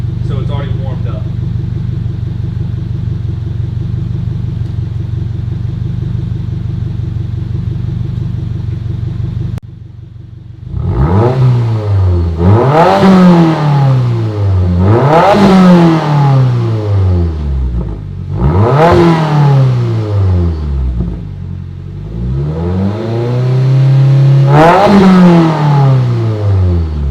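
2022 Subaru WRX with an ETS Extreme straight-pipe exhaust, no resonator or muffler, warmed up: a steady low burbling idle, then a series of about five sharp revs that climb and fall back, loud and close.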